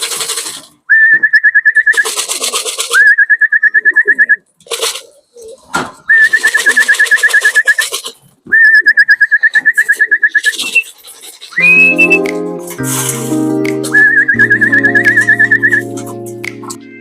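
Pigeon calls from a racing pigeon loft: repeated steady whistling coos in several bursts, close and clear, with a lower, harmonic-rich call near the end.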